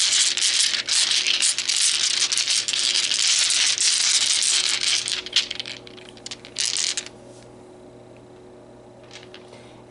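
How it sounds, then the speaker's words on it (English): Tarot dice rattle and tumble continuously for several seconds in a close, bright clatter, then settle into a few scattered clicks before quiet, with no talking. "Let's pull some tarot dice."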